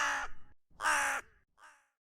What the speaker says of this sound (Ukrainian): Ворона.